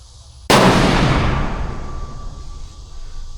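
Single loud rifle gunshot outdoors, a sharp crack followed by a long rolling echo that fades over several seconds.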